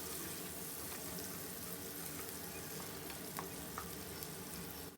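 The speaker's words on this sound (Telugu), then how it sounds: "ముందుగా ఈ ఆనియన్స్ని, పచ్చిమిర్చిని వేసేసి బాగా వేగనిద్దాము" Onions and green chillies fry steadily in a pan, giving a continuous dense sizzle with faint crackles that carries on alone until it cuts off abruptly at the end.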